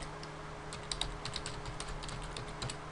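Fingers typing text on a computer keyboard, a quick irregular run of light key clicks heard close and fairly quiet over a faint steady hum, no talking.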